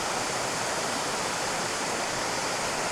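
A Central Montana waterfall pours in a steady, dense broadband rush, constant and unbroken throughout without any voices.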